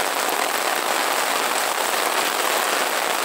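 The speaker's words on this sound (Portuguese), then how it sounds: "Chuvinha" Light rain falls steadily in Sobral, Ceará, a dense, even hiss of drops pattering on surfaces, continuous and close with no voices.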